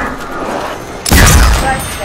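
Pistol fire in World at War zombies mode, with a sudden loud burst about halfway through and a dense, booming rumble after it. Before the shot there is steady game noise, and voices talk underneath throughout.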